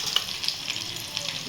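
Garlic sizzles steadily in hot oil in a pan while a drumstick curry is being cooked, with a bright close crackle and small pops throughout.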